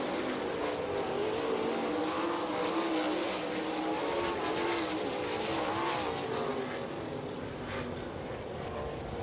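Sprint cars racing the final lap at Attica dirt track in an All Star Circuit of Champions heat race, making a loud, sustained, high-revving engine roar from a pack of cars that swells and fades slightly as they pass.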